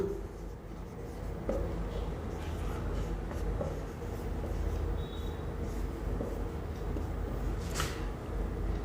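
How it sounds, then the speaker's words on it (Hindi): Writing on a board makes faint, intermittent scratching strokes over quiet room noise, with short pauses between the strokes. "सबसे पहले लिखते हैं इनपुट।"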